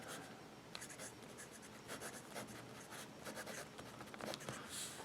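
A Franklin-Christoph Model 19 fountain pen with a 1.9 calligraphy nib writes on paper, producing faint, close scratchy strokes in quick irregular bursts, alone without talk.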